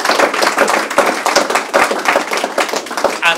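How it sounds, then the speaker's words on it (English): An audience claps steadily in a lecture hall after a talk, a dense wash of hand claps running loud and continuous through the whole stretch with no voices over it. "Maybe one more round of applause for the University of Warsaw."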